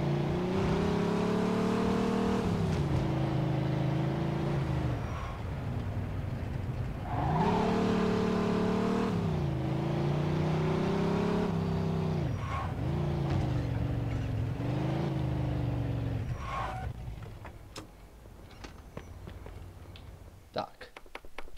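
A car in Mafia II drives away with a steady engine drone that rises and falls through repeated gear shifts, loud and close. The engine fades toward the end, leaving scattered clicks.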